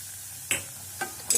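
Gram flour roasting in desi ghee is stirred with a spoon, giving three sharp scraping clicks against the pan over a faint, low sizzle, close by.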